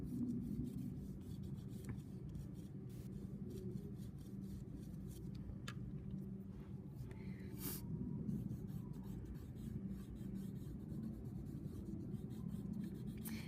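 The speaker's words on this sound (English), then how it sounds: "That's going to help me use the wide flat side of my pencil graphite." Graphite pencil shading on paper, worked with the wide flat side of the lead in an overhand grip while drawing a realistic nose; a steady, continuous soft scratching and rubbing runs throughout at close range.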